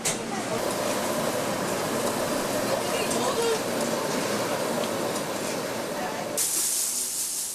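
A steady loud hiss of escaping steam rushes from an old puffed rice popping machine for several seconds, then shifts to a brighter spray near the end.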